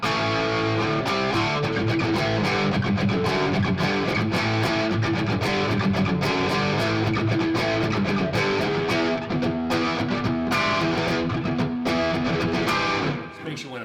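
An electric guitar played through a Marshall amplifier runs through a continuous, busy lead line with quick picked notes, staying loud and up close until it cuts off at the end.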